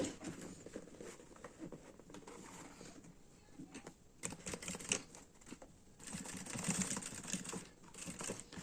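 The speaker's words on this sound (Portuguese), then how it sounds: "eu vou costurar um pouquinho pra dentro" A sewing machine stitches a fabric baby pouch with a zipper, giving a quiet, rapid mechanical clatter in uneven bursts and pauses, with no voices.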